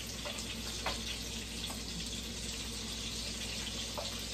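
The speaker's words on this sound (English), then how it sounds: "Now that my oil is getting there, I'll add my Italian sausages." Italian sausages sizzle in hot oil in a pan, a steady close hiss of frying with a few faint pops and crackles throughout.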